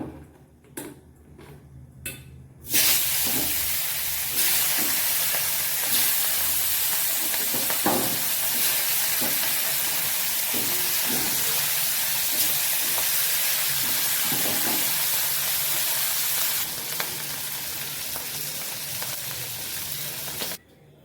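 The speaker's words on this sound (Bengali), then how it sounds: "এখন আমি শুটকিটা ভেজে নেব" Dried fish (shutki) fries in a pan, giving a loud, steady broadband sizzle and hiss that starts after a few quiet seconds and runs almost to the end, with occasional spatula clicks and stirring taps.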